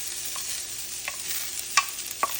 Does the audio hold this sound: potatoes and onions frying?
yes